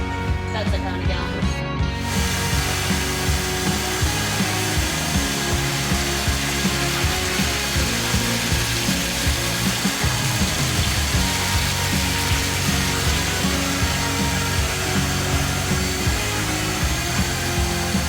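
A grain mill crushes malt for brewing beer, a steady, loud, dense grinding roar running without a break from the first seconds to the end.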